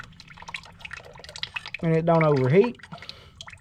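Fluid draining from a 1953 John Deere 40 tractor: a soft trickle and drip running under a man's speech.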